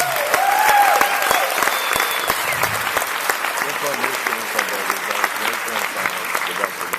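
A lecture audience breaks into loud, sustained applause for a scientist's talk, with a voice speaking over the clapping as it gradually thins.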